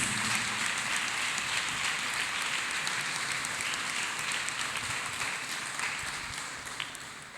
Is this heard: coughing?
no